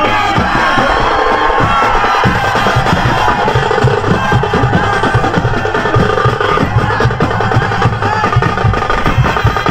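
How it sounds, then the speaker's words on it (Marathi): A large crowd roars and cheers loudly and continuously, a dense, steady wall of voices close by, at a Dahi Handi human-pyramid event. "जोरदार टाळ्या झाल्या पाहिजे."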